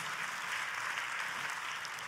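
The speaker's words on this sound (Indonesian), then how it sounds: "kalau mau tepuk tangannya yang paling meriah" Applause from a church congregation during a sermon, a steady, dense wash of clapping that fills the whole moment at moderate distance with no voices over it.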